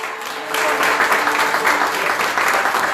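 Church congregation clapping together in sustained, steady applause that swells after a brief softer start, dense and fairly close, with a faint voice underneath.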